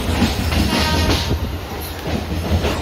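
A Mumbai Harbour Line local train on the Bandra to CSMT route pulls away, giving a loud, close rumble of railcars with rhythmic wheel clatter and faint squeals and no voices.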